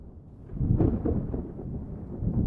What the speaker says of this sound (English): We have a rolling thunder in the background.